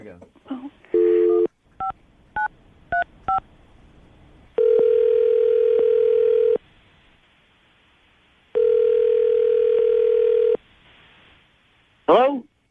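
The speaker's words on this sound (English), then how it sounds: "I'm going to dial Kenny's phone number right now" A telephone is dialed with a quick run of touch-tone beeps, then two long ringback tones sound with pauses between them, followed by a brief burst at the end, all loud and clear.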